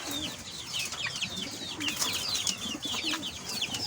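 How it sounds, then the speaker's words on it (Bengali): Clucking fowl, including a hill-breed rooster, mixed with a chorus of high, chirping bird calls, repeating busily throughout, fairly close and moderately loud. "এই যে পাহাড়ি মোরগটা"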